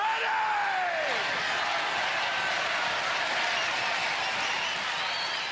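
A live TV studio audience at a 1992 UK Gladiators heat roars with sustained cheering, applause and whoops, loud and continuous throughout without a break.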